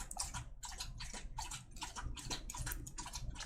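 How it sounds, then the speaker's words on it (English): A dog laps water in quick rhythmic wet slurps, about a dozen close, faint tongue strokes in steady succession. "sorry about if you can hear the dog lapping up the water behind me"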